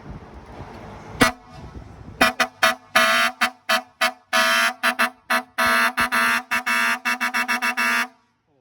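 A multi-trumpet vehicle air horn, part of an 8-trumpet setup, blasts loudly up close: one early honk, then a string of short and longer tonal bursts with a rising, rapid rhythm toward the end.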